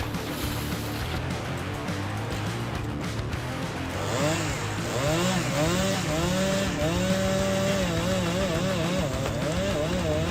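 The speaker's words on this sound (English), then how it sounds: "When the engine runs, the chain spins at high speed, cutting through it effortlessly." A chainsaw with a long metal guide bar and sharp-toothed chain runs loud and steady while cutting through wood, its engine whine rising and wavering in pitch over a constant roar.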